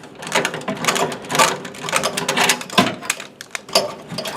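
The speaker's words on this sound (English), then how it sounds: "Access to the top pipe connector is quite easy with a basin wrench." A basin wrench working on the top pipe connector of a three-way valve on an FT Series residential boiler gives a close run of dense metallic clicks and ratcheting scrapes in quick irregular bursts, with no talk.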